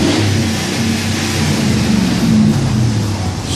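Hemi V8 of a black Dodge Ram Rumble Bee truck revving up close, a loud continuous deep rumble that swells and eases slightly over a few seconds with no talking.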